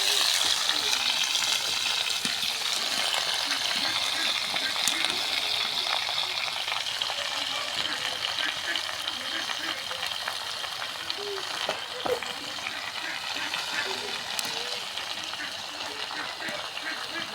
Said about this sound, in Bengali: তেলের উপর পুঁই শাকটা দিয়ে দিলাম।